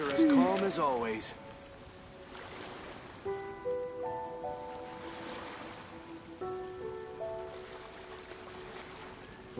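Calm sea waves in Genshin Impact wash in soft, broad swells, rising and falling twice, beneath steady game music, with a brief voice at the start.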